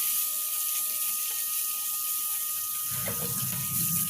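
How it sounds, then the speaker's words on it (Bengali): Small catla fish fry in hot oil with a loud, continuous hiss and sizzle, and a sudden fuller burst of bubbling near the end as more fish hit the oil. "ভেজে নেওয়ার জন্যে তেলের মধ্যে মাছগুলো ছেড়ে দিচ্ছি"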